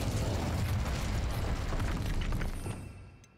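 Incendio fire spell cast in Hogwarts Legacy: a loud, roaring burst of flame with crackling, rumbling texture that holds for a few seconds and then fades away.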